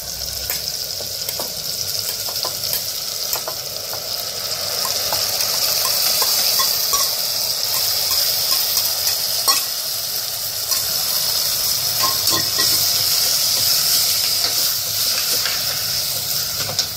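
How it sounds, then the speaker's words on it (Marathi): Spinach with a small lump of jaggery steams and cooks in a pan, giving a steady, loud hiss and sizzle with faint stirring clicks throughout. "आता पालकाला 1-2 मिनिटं वाफ येऊ देऊयात आपण."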